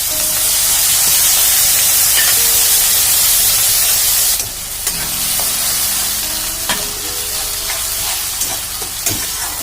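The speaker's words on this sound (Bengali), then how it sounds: "আমি যে পেঁয়াজ রসুন কাঁচা লঙ্কার পেস্টটা বানিয়েছিলাম ওটা কিন্তু এর মধ্যে ছেড়ে দেব।" Onion, garlic and green chilli paste sizzles in hot oil for a Bengali chicken curry, a loud steady hiss that drops and softens partway through, with occasional spoon clinks against the pan.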